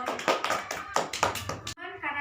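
Students in a classroom clap in a burst of applause, several rapid hand claps close by, then a teacher's voice speaks briefly at the end.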